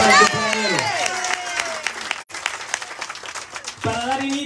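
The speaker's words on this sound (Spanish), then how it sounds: "Un aplauso para el compañero." Applause from an audience at a municipal event opening storm-drain construction works in Tijuana, steady clapping through most of the stretch with a speaker's voice at the start and again near the end.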